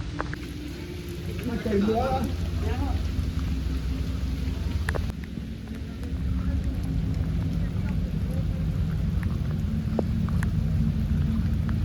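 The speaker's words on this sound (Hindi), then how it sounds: "बारिश स्टार्ट हो गई है तो हम सबको भागना पड़ रहा है बोट के लिए" Steady rain hiss fills the scene at Halong Bay while kayaking, with people talking over it and occasional sharp drips or knocks.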